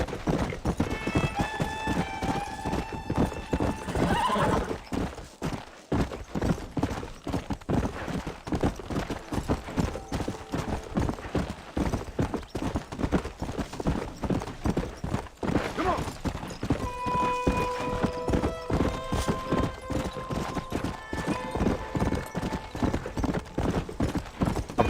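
Hooves beat out a steady, rapid clip-clop as a horse gallops across open ground in Red Dead Redemption, close and continuous for the whole stretch, with a soft whinny-like tone in places.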